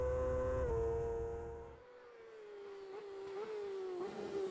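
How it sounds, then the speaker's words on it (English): A Burrows Engineering Yamaha and an M&D Racing Honda supersport motorcycle scream past on a road race circuit, engine pitch rising and shifting as they accelerate, loud and then fading slightly before climbing again. "just the power of the Burrows Engineering Yamaha powering past the M&D Racing Honda"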